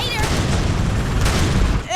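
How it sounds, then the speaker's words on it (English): Explosions in the video game Dead or Alive 5, a dense, loud rumbling barrage of booms and blasts that fills the whole stretch, with a couple of sharper bursts layered over the continuous roar. "explosions!"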